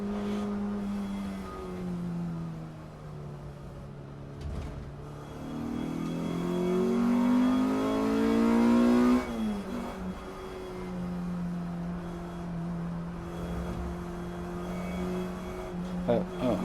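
An engine revs and drives hard in a race car at Snetterton circuit, rising and falling in pitch through gear changes and loud throughout, with someone talking over it.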